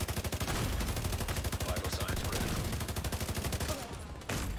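Rapid automatic gunfire in The Division 2 as a player shoots at the cannons mounted on trains: loud, dense bursts of shots repeating steadily and almost without pause, with a short drop in intensity near the end.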